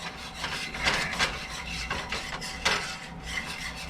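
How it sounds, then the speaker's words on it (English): Metal utensil scraping cooked-on salmon patty bits from a hot pan on a stove, a series of close, irregular rasping strokes with short bursts and pauses over a steady background sizzle. "what I'm doing is I'm scraping off that goodness out of it"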